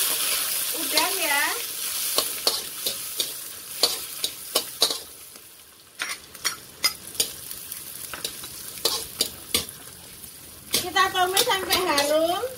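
Shrimp with shallots and garlic sautéing in a pan, a steady sizzle broken by repeated scraping stirs in an irregular rhythm, with a voice talking over the frying in the opening and closing seconds.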